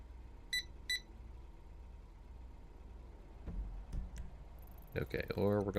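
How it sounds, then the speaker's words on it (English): Electronic beeping in an online roleplay video game, two short double-beeps early and more bleeps later, mixed with a low engine drone, clicks and a warbling tone near the end. "I don't want to hear that beeping anymore"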